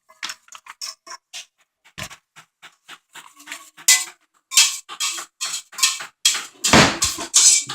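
A spoon scrapes and taps against a pan while lavender custard is stirred, making rapid irregular clinks and scrapes that grow louder and busier toward the end, close up with no talking.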